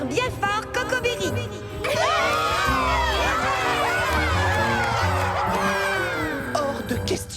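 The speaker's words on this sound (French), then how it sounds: "je vous demande d'applaudir bien fort Cocobéry" Cartoon audience cheering for the character Cocobéry, with high excited children's shouts and whoops swelling into a loud, continuous crowd roar after a brief lead-in, over a bouncy music bed.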